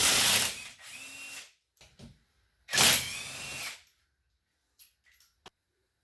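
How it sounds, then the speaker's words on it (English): A 20-volt half-inch battery impact wrench, an Earthquake XT, fires in two loud, close bursts of rattling hammering about a second long, followed by a few quieter mechanical clicks. "if you don't have one of these little battery operated impact wrenches, I would highly suggest getting one"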